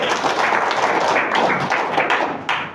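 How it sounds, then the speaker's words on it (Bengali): A large audience claps loudly at a health talk, giving one dense, steady burst of applause that lasts a few seconds and then starts to fade, with no speech over it. "জোরে একটা হাত তালি দেন।"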